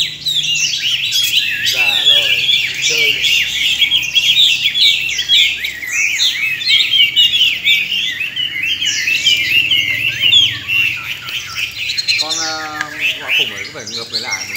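Caged hwamei, or Chinese laughingthrushes, sing close and loud in a continuous stream of rich, rapid warbled phrases and chirps, with brief squawks and someone speaking intermittently underneath.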